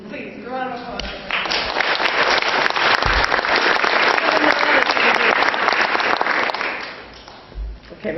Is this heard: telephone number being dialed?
no